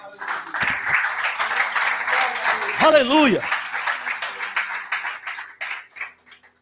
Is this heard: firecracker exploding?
no